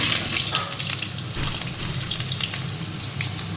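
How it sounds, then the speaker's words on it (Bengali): Potatoes frying in hot oil in a pan, a loud, dense, continuous sizzle with crackling bursts, heard up close with no talking. "প্রথমে আমি তেলে আলুটা দিয়ে দিলাম"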